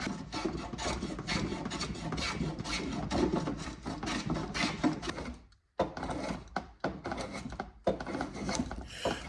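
Wood is worked by hand to size with a plane, giving repeated rasping strokes in a steady rhythm, broken by a short pause before the scraping resumes, close and fairly loud.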